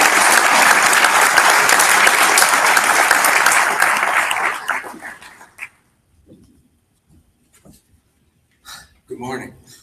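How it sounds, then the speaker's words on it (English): A conference audience at a water summit in Milwaukee gives loud, sustained applause for the moderator, the clapping fading out after about five seconds, followed by near silence and a couple of brief sounds. "Let's give him a big round of applause"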